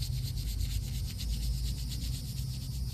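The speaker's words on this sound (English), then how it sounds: "I enjoy doing the good scrubbing" A stone headstone scrubbed clean by hand, a steady, close, rhythmic rasping rub that continues without pause.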